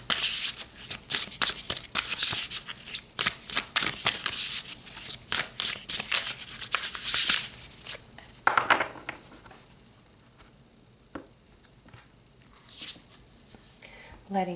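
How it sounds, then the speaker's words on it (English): Tarot cards being shuffled during a spiritual reading, a dense run of quick riffling and rubbing bursts up close for about eight seconds, then sparser faint card handling with a few soft flicks. "So let's pull some more cards."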